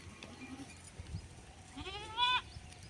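Goats grazing outdoors bleat once, a short wavering call that is fairly clear against quiet rustling background.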